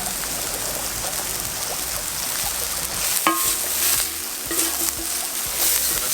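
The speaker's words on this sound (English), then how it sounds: "Just gonna saute that lightly." Roasted garlic sautéing lightly in a pan at an outdoor cooking setup, a continuous hiss of frying with stirring scrapes and a few knocks of a spoon against the pan.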